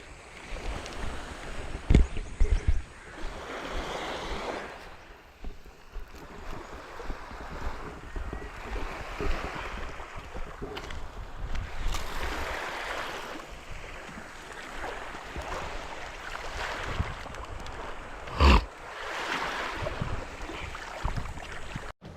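Sea waves wash steadily at a fishing spot, a continuous broad rush with wind buffeting the microphone and a couple of louder knocks, no voices.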